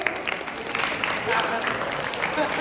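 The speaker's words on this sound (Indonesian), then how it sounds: "Tepuk tangan buat Radit ini" Students at an anti-drug awareness session applaud a classmate, with a continuous wash of clapping that stays at moderate loudness, plus a voice and some crowd murmur mixed in.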